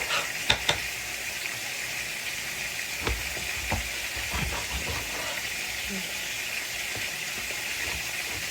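Eggplant slices frying in oil on a stove, a continuous hissing sizzle with scattered spoon knocks and scrapes throughout, fairly close and even in level.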